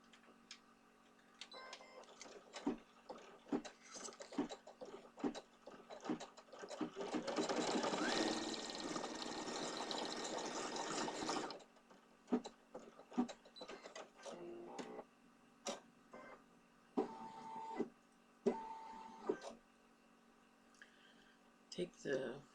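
An embroidery machine stitches flesh-coloured material in a hoop, a dense buzzing run of several seconds in the middle framed by scattered clicks and mechanical taps, with talk around it.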